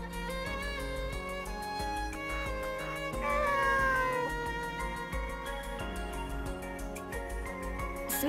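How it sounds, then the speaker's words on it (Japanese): A cat in the PS4 game Nights of Azure meows in a few drawn-out calls over a continuous game music backdrop, with no talk. "この猫ちゃん？"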